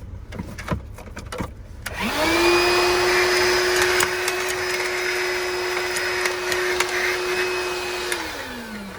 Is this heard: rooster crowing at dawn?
no